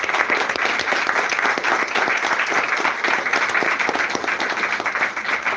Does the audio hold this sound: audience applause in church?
yes